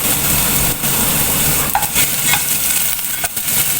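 Garlic sautés in preheated oil in a pan for macaroni soup, giving a loud, close, continuous sizzle broken by a few brief scraping stirs.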